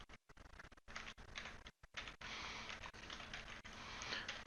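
Someone types on a computer keyboard up close, producing rapid, irregular clicking keystrokes in bursts with short pauses between them.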